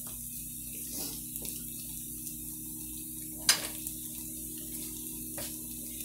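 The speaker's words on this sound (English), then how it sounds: "you can see the potatoes browning up pretty good" Potatoes brown in a Teflon pan over medium heat with a soft, steady high hiss of sizzling, and a few faint clicks and one sharper tap partway through.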